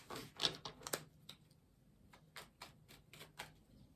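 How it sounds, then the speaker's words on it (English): A deck of tarot cards is cut and handled, giving a run of quick, soft, papery taps and flicks, close and quiet, in an uneven rhythm. "I'm going to cut the deck."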